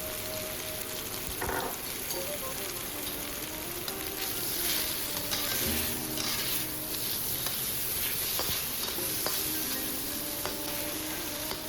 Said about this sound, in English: we'll stir fry the pork meat. Add a bit more oil as needed.